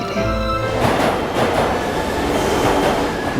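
A subway train runs with a steady loud rumble and rattling wheels on the tracks, heard from on board, continuous and without talk.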